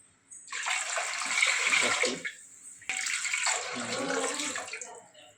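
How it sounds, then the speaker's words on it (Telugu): Water pours steadily into a pot for cooking milk vermicelli, in two long streams separated by a brief pause, close and fairly loud, with no talking. "ఐదు గ్లాసులు వాటర్ పోసుకోవాలి చూడండి"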